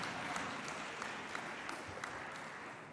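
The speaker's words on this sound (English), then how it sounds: "give me a round of applause." A crowd applauds at an engineering awards ceremony, with brief, fairly faint clapping that carries evenly throughout.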